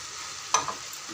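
Surakkai kootu stirred in a pan with peanuts and grated coconut, a soft continuous sizzle with one short scrape of the spoon partway through.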